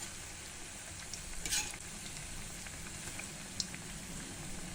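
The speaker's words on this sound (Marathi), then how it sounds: "हे सोनेरी रंग येईपर्यंत हे कोफते आपण तळून घेऊया" Palak koftas fry gently in oil over a low flame, a steady soft sizzle with a brief louder crackle burst and a sharp pop, no voices.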